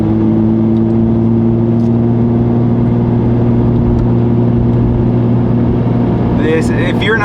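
Lotus Evora 400 cruising on a long highway drive, a steady low engine and road drone heard from inside the cabin, constant and loud, with a brief voice near the end.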